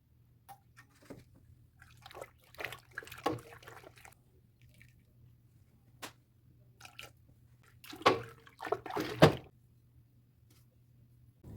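Fabric dye being stirred into water in a container while dyeing thrifted clothes: soft, sporadic splashes and swishes with a few louder sloshing bursts over a low steady hum, quiet and close.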